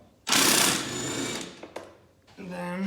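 A power tool whirs loudly to remove a 10 mm bolt during radiator work on an Acura MDX, close and sustained for about a second, fading off, followed by a second brief whine.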